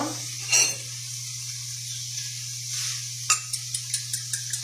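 Food gets stirred in a pan with a faint sizzle and a steady hum in the background, then a utensil taps the pan rim in a quick run of light, evenly spaced clinks.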